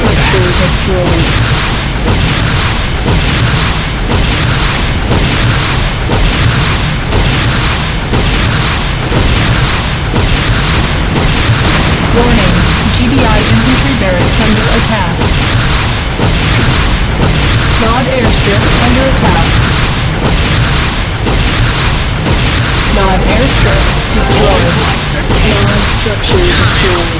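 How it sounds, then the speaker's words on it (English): Continuous heavy booming explosions pound away as a structure is destroyed in Renegade C&C, a loud, dense barrage with no letup. "GDI weapons plant is destroyed. Structure destroyed."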